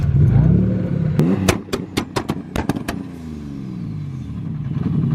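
A 550 hp Nissan Skyline drift car fires up from a cold start, then rips a quick burst of sharp two-step pops and crackles, loud and close, before settling into a rough, steady idle.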